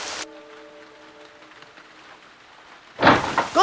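Rain falls steadily during a stop at an inn: a faint, even hiss with a brief tone at the start, then a louder splashing burst near the end.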